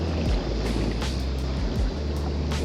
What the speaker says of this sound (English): I heard the waves crashing on the bank.